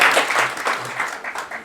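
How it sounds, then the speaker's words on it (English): A lecture audience claps in a brief, close burst of applause, the individual claps uneven and fading slightly over a second and a half. "a round of applause for them too"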